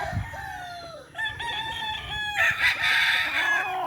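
Roosters crow loudly nearby on a poultry farm, one call overlapping another in quick succession, with some clucking underneath.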